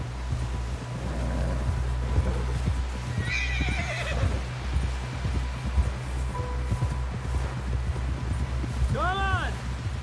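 A horse in the video game Red Dead Redemption 2 clip-clops along at a steady pace and lets out a clear whinny near the end, with game dialogue and background sound running underneath.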